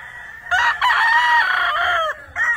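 A McLean hatch over Gilmore gamefowl rooster crows loudly and close, one long drawn-out call broken into segments, followed by a short extra note.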